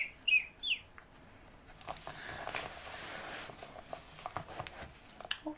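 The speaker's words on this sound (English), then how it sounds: "Just a teeth whistle." Two quick, high, chirpy whistles are made through the teeth, close and clear, then give way to soft rustling and tapping from colouring in a quiet ASMR setting.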